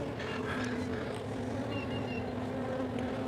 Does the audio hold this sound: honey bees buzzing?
yes